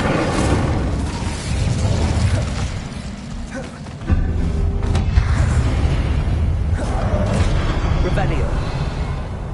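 Fiery bursts from the Incendio spell in Hogwarts Legacy, a loud sustained roar of flame with crackling pops and a sharp surge partway through, thick with battle noise.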